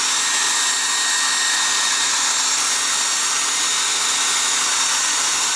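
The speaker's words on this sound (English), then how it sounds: "I have the hair dryer." A hair dryer blows steadily and loudly throughout, a constant whooshing roar with a faint motor whine and no voices.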